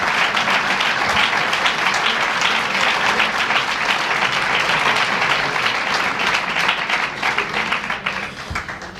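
Loud, dense applause from a large crowd at a conference welcoming Fernando Paz, a steady roar of many hands that holds for several seconds before starting to thin out at the end.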